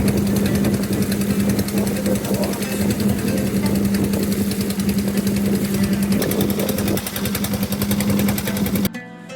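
A river boat's engine drones steadily and loudly throughout on a trip from Mollahat toward Jatrapur market, a constant rattling hum with no talk over it, cutting off abruptly near the end.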